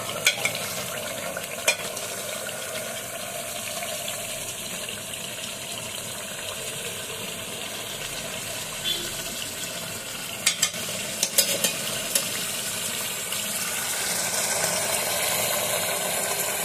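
Goat meat with ground spices sizzles and is stirred down (kosha) in an aluminium pot, a steady loud frying hiss broken by scraping stirring clicks, with no talk.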